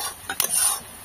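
Chicken being stirred in a pan with onion, turmeric, salt and ginger-garlic paste over a home stove, a quick close scrape and clatter over a steady sizzle.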